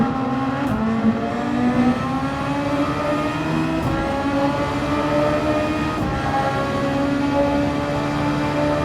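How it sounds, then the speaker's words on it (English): A Super Formula race car at Suzuka in Gran Turismo 7 holds its engine near the rev limiter. The engine gives a loud, continuous high-pitched scream with small wavers in pitch. "Hit the rev limiter right there."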